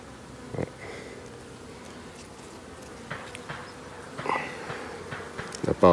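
Honeybees hum softly on a brood frame at an open hive, a faint continuous drone with occasional closer buzzes and light knocks from handling the frame.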